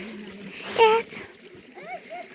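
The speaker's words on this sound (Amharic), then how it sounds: "እዚህ ጋር አሁን ራሱ አንድ ልብስ ያጥባል" A blanket being washed by hand in a shallow rural stream gives a single short splash of water that stands out clearly against a quiet outdoor background, with faint voices around it.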